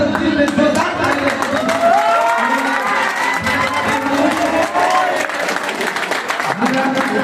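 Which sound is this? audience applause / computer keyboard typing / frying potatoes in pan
audience applause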